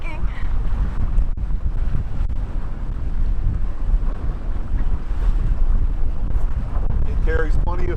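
Cruising catamaran under sail turning through the wind, with heavy wind buffeting the microphone over rushing water and hull noise, loud and continuous, with faint voices near the end.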